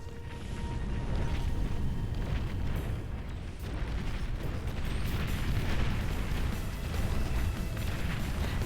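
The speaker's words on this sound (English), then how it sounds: "now his entire base just got canceled by a nuclear missile" A nuclear missile strike in the real-time strategy game Beyond All Reason makes a sustained, heavy rumbling roar that churns steadily for several seconds with no voices.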